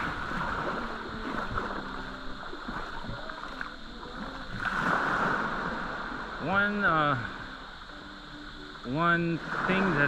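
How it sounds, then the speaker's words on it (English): Boats pass close to a secluded beach on Boracay Island with loud music blaring from them, the music swelling and fading over a steady wash of engine and water noise. "Boats here coming by with their super ass loud music."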